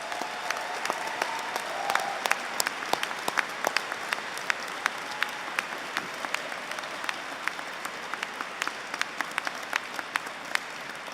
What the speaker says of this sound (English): I would like you to applaud their contribution to your degree.